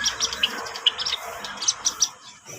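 A wild bird calls outdoors near a tall post, giving short, sharp high chirps repeated every few tenths of a second, fairly close and heard alone.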